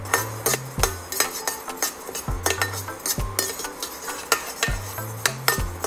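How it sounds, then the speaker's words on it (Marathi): Coriander seeds being dry-roasted in a pan give a close, steady run of scraping and clinking spatula strokes against metal, with a rhythmic knocking, while the seeds rattle softly. "धने सुद्धा मी छान भाजून घेणार आहे।"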